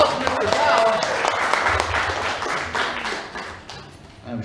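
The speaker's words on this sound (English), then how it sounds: "A round of applause for Mr. Gobbs." An audience claps for a man named Mr. Gobbs at a talk, a steady wash of applause that swells early and then slowly tapers off, with faint voices mixed in.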